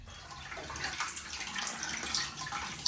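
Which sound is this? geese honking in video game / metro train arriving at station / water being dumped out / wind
water being dumped out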